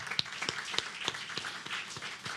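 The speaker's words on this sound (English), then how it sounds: "So I think we need a round of applause for that one." A conference audience at a tourism resilience event gives a round of applause, moderately loud and steady with distinct individual claps standing out, no talk over it.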